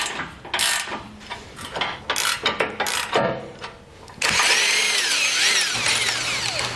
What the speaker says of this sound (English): we are now ready to remove 2 15mm bolts securing our tow hook.